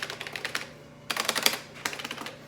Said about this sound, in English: This is what I call a clacky keyboard.